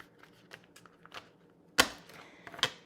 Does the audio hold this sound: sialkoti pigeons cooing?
no